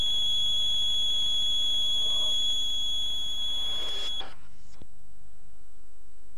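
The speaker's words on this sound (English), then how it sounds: "the warning light will start flashing and the buzzer will sound" Warning buzzer in the cab of a New Holland FX 40 forage harvester, a steady high-pitched electronic tone that holds for about four seconds before cutting off, leaving a quieter background.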